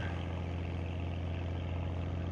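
Stern-mounted engine of a rebuilt 1951 18-foot Penn Yan President boat idling on Lake Champlain, a steady low, throbbing growl that holds even and close throughout with no voices.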